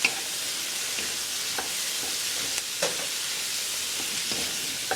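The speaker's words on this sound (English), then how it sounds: "And stir it." Food is stirred in a hot pan, a constant close sizzle broken by several scraping strokes of a utensil, with no one speaking.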